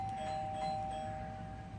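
A disconnected doorbell installed near a front entry rings steadily as a single sustained electronic tone, clear and moderately loud over a faint room hum.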